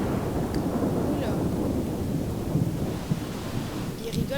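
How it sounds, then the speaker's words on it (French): Thunderstorm ambience from the video game The Sims 3: a continuous wash of heavy rain with deep rolling thunder rumbles, loud and close, holding steady across the whole stretch. "Il rigole pas quand il pleut dans le jeu."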